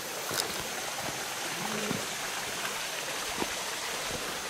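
Water cascades down a slippery rocky stream bed, a steady close rushing wash with occasional faint knocks, and no one talking.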